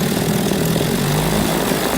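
A 1957 Evinrude 7.5 outboard engine running lean drones steadily and loudly up close, with a low, slightly uneven running tone throughout.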